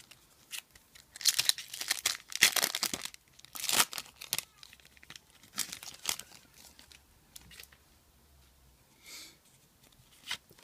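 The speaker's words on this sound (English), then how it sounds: "So as always, I sleeve the foils." Plastic card sleeves crinkle as foil Pokémon cards from a Mega Mewtwo Y Elite Trainer Box are slid in, close-up rustling bursts clustered early, then quieter scattered crackles.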